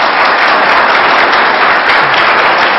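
Loud, dense clapping from a debate audience at a special state senate debate at Stonehill College, an unbroken roar of applause filling the whole moment with no voices over it.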